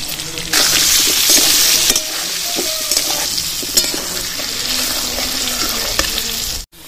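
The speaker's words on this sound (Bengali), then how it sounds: "এরকম লাল লাল করে ভেজে নিতে হবে আলুগুলো।" Potato pieces frying hard in hot oil with salt and turmeric, a loud continuous sizzle with occasional spatula scrapes and clicks, ending in an abrupt cut-off, no one speaking.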